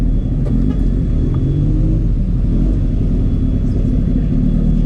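A BMW motorcycle engine runs with a loud, continuous low rumble and steady drone, heard outdoors at a welcome ceremony in Alanya with a faint background din.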